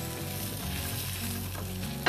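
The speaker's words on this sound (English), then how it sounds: "some garlic. So again, it's getting sauteed." Garlic sautéing in a pan for a traditional Kerala dish, a steady close-up sizzle and crackle of frying that runs evenly throughout, with no talking over it.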